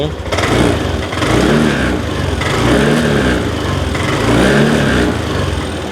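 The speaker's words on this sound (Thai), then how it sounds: "ลองเร่งเครื่องเพื่อดูอาการควันขาวหน่อยนะครับ" A 2021 Yamaha Nmax scooter with stock exhaust revs up loudly three times in succession, each throttle blip rising and falling over a rumbling idle, close by.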